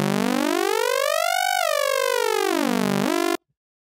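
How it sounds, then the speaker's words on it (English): Synthesizer sine wave with amplitude modulation, a smooth continuous tone that sweeps up, falls, dips and rises again before stopping abruptly, played alone. "we now get this kind of flattened sine wave"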